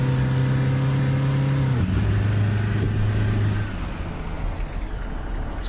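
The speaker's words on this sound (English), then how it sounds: "it has got quite a noisy engine on it" A noisy BB40 minibus engine in Fernbus Simulator, droning loudly with a steady low hum that shifts down in pitch partway through as if changing gear, then continues rough and even with no talk.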